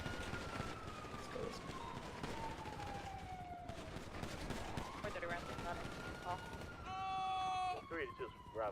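Rapid gunfire in GTA 5 crackles amid a wailing police siren that sweeps down and back up, with a tight burst of shots near the end; players talk over the action throughout.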